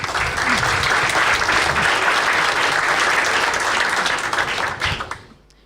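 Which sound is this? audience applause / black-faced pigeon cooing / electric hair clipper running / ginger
audience applause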